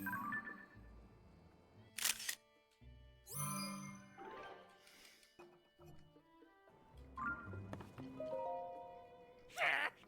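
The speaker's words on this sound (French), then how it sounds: "Ah, faut le prendre en photo." A camera shutter click from taking a photo in the video game Zelda: Tears of the Kingdom, a couple of brief bright clicks standing out against game music and French speech.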